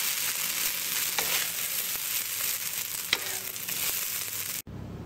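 Short noodles stir-frying in hot oil in a pan, a steady close sizzle and crackle with faint stirring scrapes, running alone for about five seconds before cutting off abruptly near the end.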